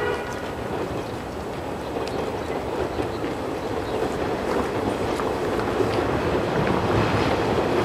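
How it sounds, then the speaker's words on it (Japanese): A 189 series local train bound for Nagano pulls into platform 1 at Toyono station, its rumble building gradually under a wind-like hiss, moderately distant and fairly soft. "まもなく1番線に下り列車が参ります。"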